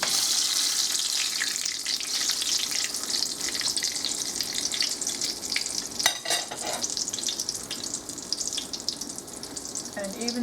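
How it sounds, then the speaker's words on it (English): Potato rellenos de papa frying in 375 degree oil give off a steady, bright sizzle throughout, with a brief clatter of utensils partway through. "in your hot oil, you just put it in just like that. 375 degree oil for about 2 minutes on each side"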